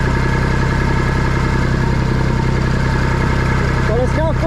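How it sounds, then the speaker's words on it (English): A tractor engine runs steadily while rolling a steep hillside silage field, a loud constant mid-pitched drone with low vibration throughout, and a few brief higher whines near the end. "It's not the first time this tractor has rolled in this field."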